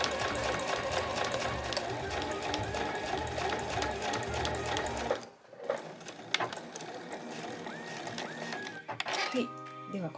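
A sewing machine runs steadily while stitching a body bag with a backstitch at the start and end, a dense mechanical whir for about five seconds, then stops and restarts in short bursts.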